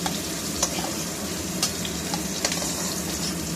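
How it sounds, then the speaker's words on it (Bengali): Cauliflower pieces fry in oil in a pan with a continuous, moderately loud sizzle and a few sharp clinks from a utensil at intervals, heard close up without speech. "বাকিগুলো ভাজা হয়ে গেছে, এগুলোকে এখন তুলে নিচ্ছে মা।"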